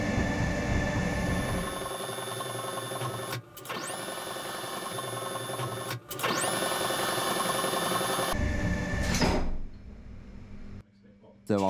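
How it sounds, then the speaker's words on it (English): Mechanical shutdown device of a very old screw factory lift running sped up, a steady dense whirring and clattering drone with high whines, broken by two brief dropouts and then tailing off near the end. "When the lift moves, the rod in the middle rotates, which moves a threaded bar in the middle."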